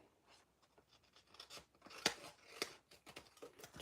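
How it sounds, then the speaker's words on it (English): Scissors trimming excess paper from a circle on a handmade card, a string of soft, close snips and crisp paper cuts of uneven rhythm, quiet overall. "we can trim off that extra circle"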